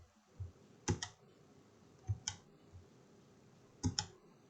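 Computer mouse clicks while working in DesignSpark Mechanical CAD software, a few faint, sharp clicks, some in quick double pairs, spaced over a few seconds against quiet room background.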